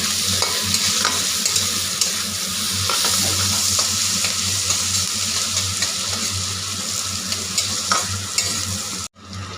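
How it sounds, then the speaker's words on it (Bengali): Onions fry loudly in a pan, a dense close sizzle running throughout with light scraping and stirring clicks, cut off abruptly at the end. "পেঁয়াজটা দিয়ে কিছুক্ষণ ভাজা ভাজা করব।"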